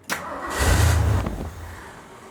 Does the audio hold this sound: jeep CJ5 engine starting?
yes